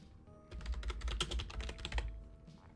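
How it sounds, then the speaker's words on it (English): Rapid clattering keystrokes on a computer keyboard, a fast burst of close, crisp clicks over about two seconds that then trails off, with no talking. "I'll just type it..."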